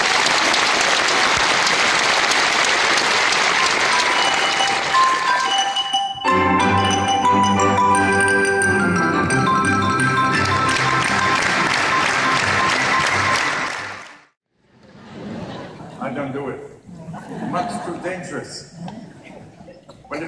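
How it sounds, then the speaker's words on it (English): An arena crowd in Manchester applauds a carillon player at a concert. Loud, sustained clapping fills the opening seconds, then carries on under bright sustained music before cutting off, followed by scattered voices and murmuring. "Give him an enormous applause."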